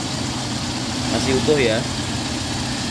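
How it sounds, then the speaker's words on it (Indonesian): A 2004 Toyota Kijang LGX 1.8 with manual gearbox idles smoothly, a steady close engine hum running throughout beneath a man's speech. "Suara mesin juga masih halus."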